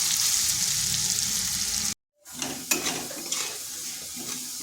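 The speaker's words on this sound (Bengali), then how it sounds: "আলুটাকে একটু ভাজা ভাজা করে নিচ্ছি" Potatoes frying in a pan for a vegetarian cauliflower dish, a steady sizzle that cuts out briefly midway and then resumes with small stirring clatters, close and without talk.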